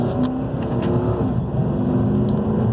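A Dodge Challenger R/T accelerates with its engine held in second gear, a loud, sustained low roar that stays steady and close throughout, with no talking.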